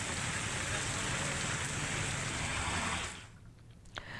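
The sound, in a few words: drizzling rain in Rajkot district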